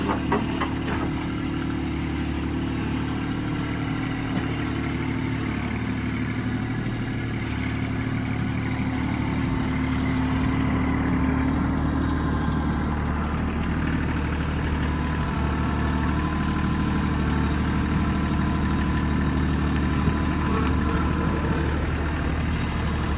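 A tractor engine idles steadily while logs are loaded onto a trailer with a grapple, a constant low mechanical drone close by with no speech.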